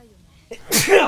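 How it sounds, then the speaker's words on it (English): A single sharp sneeze bursts out close by, a short inhaled catch followed by a loud, breathy explosive release. "Gotta sneeze."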